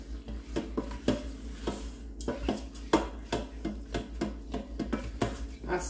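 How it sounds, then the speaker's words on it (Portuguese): Chicken being stirred in the metal pot of an electric pressure cooker, with irregular scraping and clinking of a utensil against the pot over a low steady hum, close and without talk. "Vou misturar tudo"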